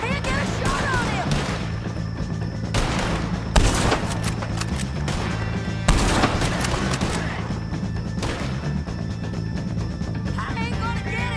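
Rapid gunfire in a Red Dead Redemption 2 shootout against O'Driscoll gang members, with loud repeated shots and booming impacts running throughout over a busy game soundscape, with some voices mixed in.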